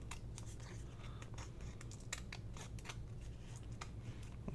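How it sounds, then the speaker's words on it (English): Scissors trimming a piece of paper while making paper pocket slides, quiet close snips and paper rustles in an irregular run throughout, with no talking. "so let's go ahead and trim that off."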